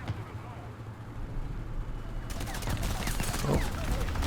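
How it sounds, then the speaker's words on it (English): Rapid, close bursts of gunfire and rumbling blasts from an artillery strike in War Thunder erupt midway over a steady vehicle engine drone, with a voice talking underneath. "We got the M8 with an artillery strike."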